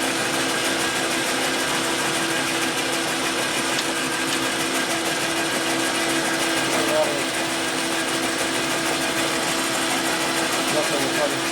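Metal lathe cutting a spacer for a Brembo rear brake caliper axle adapter on a Dyna, a steady continuous machining whir and hum running throughout, with faint voices in the background.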